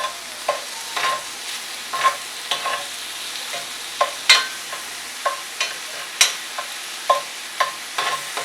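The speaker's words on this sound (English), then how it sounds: "Just kind of scraping. It's cast iron, it's pretty forgiving." Metal utensil scraping a cast iron pan while shrimp cook, repeated sharp scrapes and taps at an irregular pace over a soft sizzle, close up with no talking.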